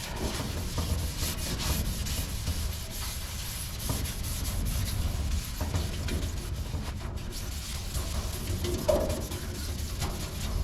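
A scratch pad scrubs a car body being prepped for spray paint over Bondo, making a continuous, close rasping rub with steady back-and-forth texture and no speech.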